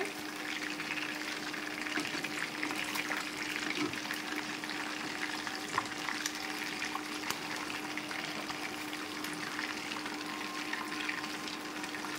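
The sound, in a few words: fish pieces frying in oil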